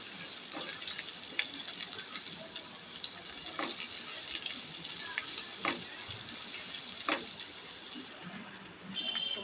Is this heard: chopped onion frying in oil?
yes